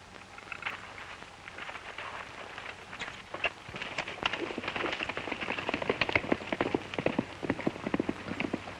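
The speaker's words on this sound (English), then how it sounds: "Say, Stony, how about using your horse? He's faster than mine." A horse galloping on a ranch in a 1937 Western, a fast uneven patter of hoofbeats that grows louder as it approaches, with no talk over it.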